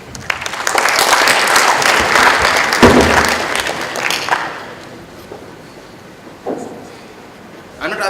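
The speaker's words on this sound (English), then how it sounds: "please give a round of applause for him." An audience at a technology event applauds as a speaker comes on stage, with loud clapping for about four seconds that then thins to scattered claps and quiet room noise.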